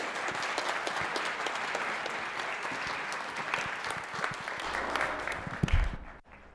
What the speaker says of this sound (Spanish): Un aplauso para el doctor Peinbert.